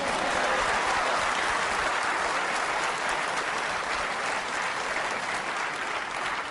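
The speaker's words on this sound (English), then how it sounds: "there'll be a big round of applause if this drops in" Snooker crowd at the Crucible breaks into a long, steady round of applause after a very thin pot, dense clapping filling the hall for several seconds without pause.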